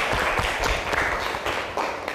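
A classroom of students applauds a student named Adila during a sociology lesson, a short burst of dense, fairly close clapping with no talking over it.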